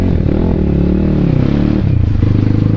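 A BSE Z7 motorcycle rides past loud and close, its engine revving and falling with rough clattering and scraping over an uneven hangar area, the pitch dropping sharply near the end; no talk.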